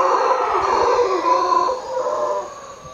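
Distant howler monkey calls, a long droning roar rising and falling continuously before fading slightly.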